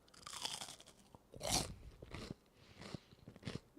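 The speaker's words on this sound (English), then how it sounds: "But you all heard how crunchy this is." A crunchy snack dipped in Nutella is bitten and chewed up close, giving several loud, crisp crunches spaced apart, with no talking.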